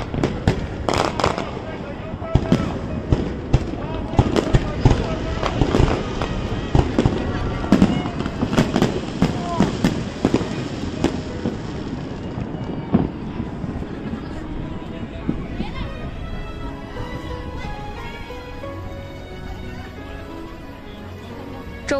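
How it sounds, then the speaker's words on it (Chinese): Fireworks at a Singapore National Day rehearsal for the 2019 bicentennial, watched from a riverside: a loud, dense run of booming bursts and crackles that thins out toward the end, with crowd voices talking underneath. "让我们来看看这烟花到底有多美"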